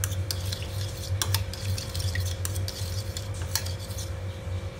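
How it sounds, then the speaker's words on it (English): Spices being mixed into a cucumber salad in a bowl: light clinking and scraping of a spoon against the bowl, repeated in an irregular rhythm over a steady low hum, close and fairly quiet, with no talking. "Mix it nicely."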